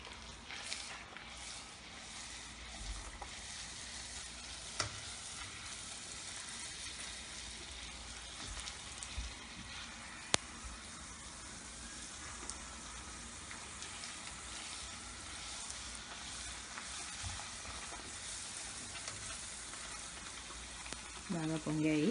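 Pani puri dough rounds frying in hot oil, a continuous soft sizzling and bubbling at moderate level with occasional faint clicks, steady throughout.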